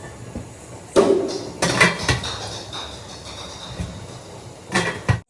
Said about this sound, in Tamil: இட்லி ஊற்றியாச்சு, மூடி வச்சிடலாம்.